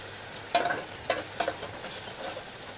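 Onions sautéing in a pan for a cucumber curry, a soft sizzle with a few sharp crackles and stirring scrapes near the start, then a quieter steady frying hiss.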